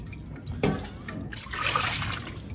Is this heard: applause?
no